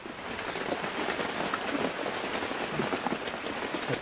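A sudden downpour hits outdoors, a dense steady hiss of rain with scattered sharper drops, close and continuous throughout.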